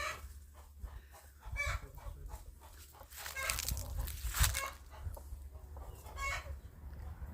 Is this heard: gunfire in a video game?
no